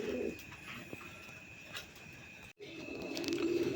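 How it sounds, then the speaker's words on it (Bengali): A pair of Rajgolla pigeons coo softly in a few low, rolling bursts at the start and end, over steady background hum with a brief dropout midway. "বন্ধুরা এখানে একজোড়া রাজগোল্লা কবুতর আছে,"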